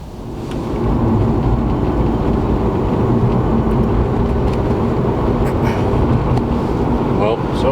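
A turbocharged Lexus IS300 fitted with a CX Racing turbo kit drives on the road, its engine and road noise loud and close in a steady broad roar that swells in over the first second and then holds.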